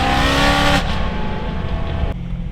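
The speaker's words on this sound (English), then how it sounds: "This car pops like crazy." A car at a car meet at Levi's Stadium, loud and close, with a rough revving exhaust roar that cuts off abruptly and is followed by lower rumbling and crackling pops, no voices over it.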